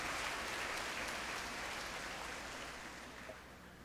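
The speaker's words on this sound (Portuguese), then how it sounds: "uma salva de palmas para o nosso diácono Erivaldo." Church congregation at a patronal feast novena giving a round of applause, a steady broadband clapping wash that fades slightly toward the end, heard at a moderate distance with no talk over it.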